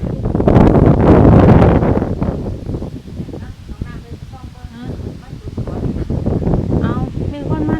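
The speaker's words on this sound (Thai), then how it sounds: "โอ้ยลมนี่ลม บรรยากาศย่างดีเลย" Strong wind gusts buffet the microphone outdoors beside a large pond, roaring loudly at first and then settling into steady rustling while people talk over it.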